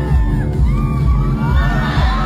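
A crowd screams in fear as a rapper stage-dives toward them, with dense, loud shouting and yelling that runs continuously at close range, marked by a few sharp bangs.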